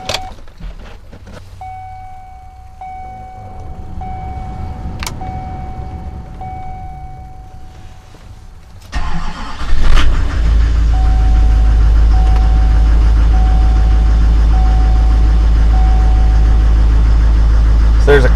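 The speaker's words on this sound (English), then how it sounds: "So there's a cold start for you." A 2006 Duramax diesel truck cold-starting in snow: after a quiet stretch with a steady cabin chime, the engine cranks and catches with a loud surge, then settles into a steady, heavy diesel idle heard from inside.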